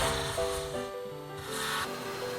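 A wooden spindle spinning on a lathe is sanded with a steady, continuous rubbing hiss that swells and eases slightly, with a low motor hum underneath.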